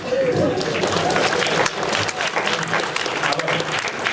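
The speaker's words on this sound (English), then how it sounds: "she applauds by slapping her leg" An audience at a Brent Spiner Q&A at a comic convention claps steadily and densely, a full crowd applauding close and loud throughout, with voices mixed in.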